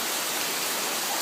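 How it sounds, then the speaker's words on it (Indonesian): Steady rain falling in Rojopolo, a dense, even hiss of water filling the whole moment without pause, fairly loud and close, with no voices over it. "itu namanya hujan dulu"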